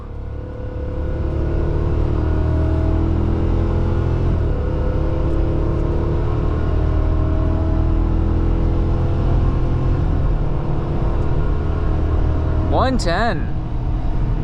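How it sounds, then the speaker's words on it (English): A heavy-duty truck with a Godzilla gas engine, towing a heavy trailer, accelerates with a loud, sustained engine drone that climbs in pitch as it shifts, and a brief whoop is heard near the end. "God, this engine sounds good."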